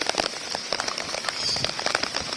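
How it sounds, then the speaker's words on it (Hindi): Steady rain pattering on surfaces outdoors during a downpour that floods homes, a dense continuous patter with scattered sharper drops, fairly close and uniform throughout. "आप बारिश को एंजॉय करें।"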